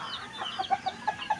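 Chickens cluck in a rainy backyard coop, giving about five short, evenly spaced clucks at close range over a soft background hiss, with no talking.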